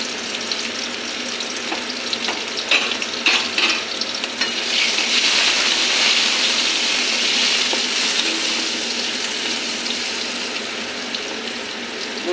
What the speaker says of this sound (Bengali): বেগুনটি ভাজা করে নেব।